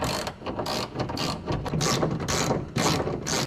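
A hand ratchet loosens bolts inside the door of a 2004 Dodge Ram 1500, giving close, loud bursts of fast clicking in quick repeated strokes.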